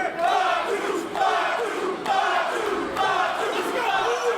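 A wrestling crowd at an MLW event roars and cheers for Jacob Fatu, a dense, loud wall of voices with shouted chants swelling in waves roughly every second.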